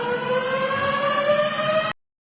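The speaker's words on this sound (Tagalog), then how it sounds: "nagpatunog po sila ng sirena dyan" A civil defense siren wails steadily during a political speech, a loud sustained rising tone that holds for about two seconds and then cuts off abruptly into silence.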